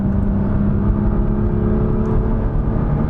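A BMW M2 engine in Sport Plus mode drones steadily with the throttle held constant, a loud, even, low hum heard close and continuous from inside the car.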